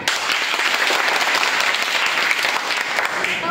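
Loud, steady applause from schoolchildren at a school quiz, many hands clapping continuously without a break.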